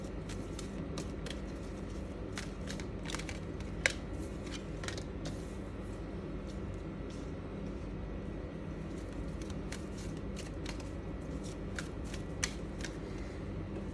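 Tarot cards are pulled out and shuffled, giving soft repeated riffling clicks and flicks close by over a steady low room hum.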